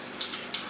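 Water runs steadily as it rinses bark out of potting media for plants, a close, continuous hissing splash with no pauses.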